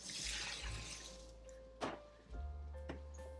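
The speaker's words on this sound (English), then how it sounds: "we're gonna get these potatoes drained" Water pours and splashes from canned potatoes being drained in batches, a steady rushing stream with a louder splash partway through, then continued trickling.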